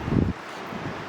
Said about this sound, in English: you can see it's windy